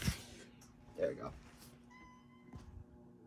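A house cat meows a few short times indoors, quiet and close, with a person talking softly between the calls.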